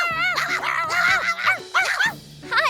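Cartoon dog barking in an animated scene: a run of loud, close, springy barks and yips in quick bursts, with short gaps between them and no talking over them.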